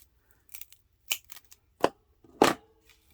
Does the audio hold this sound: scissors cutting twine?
yes